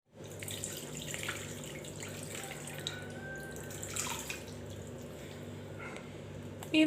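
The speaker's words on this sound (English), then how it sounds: "pour this mixture of this water inside" Water pouring steadily into a basin of raw chicken for a wet fried chicken dish, a close, continuous splashing trickle that runs alone for several seconds.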